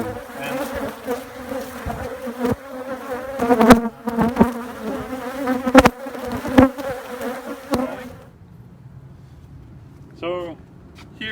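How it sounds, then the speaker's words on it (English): Honeybees fan and swarm at a relocated hive, a dense, loud, close buzzing that wavers for about eight seconds before dropping to a faint hum with a brief nearer drone. "If you see some bees standing and having the butt out, they're fanning a signal telling everybody else, hey, the queen is around."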